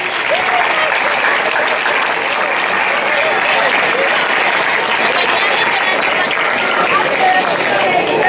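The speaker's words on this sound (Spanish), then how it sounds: "Casi les podíamos dar un aplauso." Audience applause at the Fonz village festival for the municipal brigade, a loud, dense and continuous clapping of a large crowd lasting several seconds, with some voices mixed underneath.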